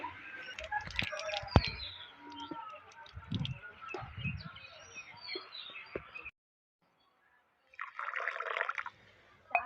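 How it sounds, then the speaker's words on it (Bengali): Mung dal is washed in water with the water changed, giving soft close sloshing, dripping and pattering in the bowl, then a silent gap before a short splash of pouring or rinsing. "2 থেকে 3 বার জল পাল্টে পাল্টে খুব ভালোভাবে ধুয়ে নিলাম ডালের গায়ে পাউডারগুলো"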